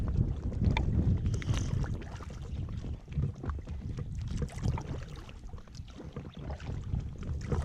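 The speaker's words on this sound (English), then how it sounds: "Look at the wind." Strong wind buffets the microphone on a river during a kayaking outing, a steady low rumbling roar with faint water lapping beneath it and no talk.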